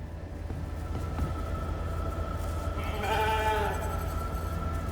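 A sheep bleats in the video game The Alters: one wavering, mid-loud bleat rising briefly over a steady low background hum, with no talk.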